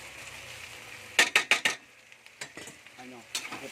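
Cabbage and mixed vegetables being sautéed in a pan for pansit, with a quick run of loud scraping and clattering strokes followed by softer intermittent stirring, up close.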